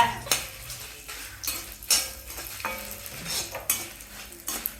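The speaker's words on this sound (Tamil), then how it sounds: "காஞ்ச மிளகா வறுத்துக்குங்க." Dried red chillies roasting in a pan with a little oil, heard as repeated scraping stir strokes and clinks of a utensil against the metal pan over a soft sizzle, close and fairly quiet.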